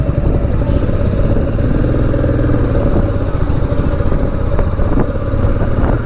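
A Royal Enfield Meteor 350 single-cylinder motorcycle thumps along steadily while being ridden, a close, loud, continuous engine beat with wind noise and no talking.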